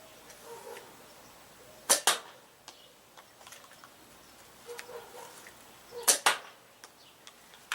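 A Nerf toy blaster fires in bursts: sharp snapping shots, two clusters of loud close cracks with fainter clicks and mechanical rattles between them, and no talking.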